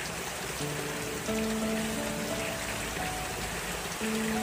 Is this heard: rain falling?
yes